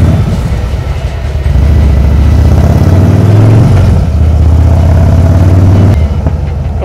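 A Harley-Davidson Fat Boy motorcycle accelerates hard along a main road, its heavy engine loud and close, climbing in pitch through a strong rev before easing and pulling again.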